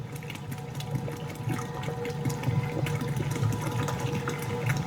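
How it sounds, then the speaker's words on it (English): A gallon of whole milk pours into a cast iron pot of chicken stew, a steady gurgling, splashing stream that runs the whole time at close range with no talking. "At this point, I'm gonna add a gallon of whole milk."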